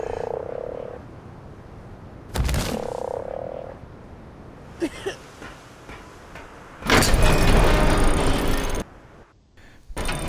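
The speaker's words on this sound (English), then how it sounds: "It had been a long time since I'd ridden a frog." A ridden frog in Ark Survival Evolved gives two deep, sustained croaks, broken up by sharp thuds and a loud, rushing burst of noise near the end.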